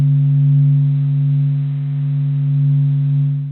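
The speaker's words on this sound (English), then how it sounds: "we listen to several different sounds made by the sun, recreated through clever science" Reconstructed sound of the Sun made from sonified wave data: a steady, loud low drone with a strong fundamental and faint overtones, slowly swelling and fading, continuous for the whole stretch with nothing else present.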